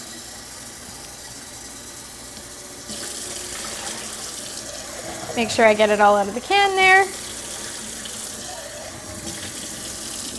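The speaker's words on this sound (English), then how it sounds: "just run some water over them" Tap water runs steadily over canned black beans in a colander at a kitchen sink, a constant near hiss under a person speaking briefly midway.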